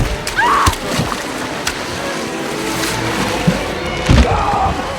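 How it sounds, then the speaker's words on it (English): In a film scene, water splashes and churns loudly as a gigantic crocodile lunges out of a river and throws a man further in, with sharp splash bursts near the start and end over steady rushing water. "the gigantic crocodile suddenly lunges out of the water and throws him further into the river"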